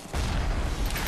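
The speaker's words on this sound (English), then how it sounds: "That's a gun." A BioShock gunshot or blast: a single booming hit after a brief quiet moment, followed by a sustained loud rumbling wash of noise through the rest of the clip.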